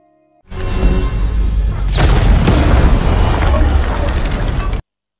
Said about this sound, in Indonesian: terpaksa bom itu pun diledakkan di rumah Neven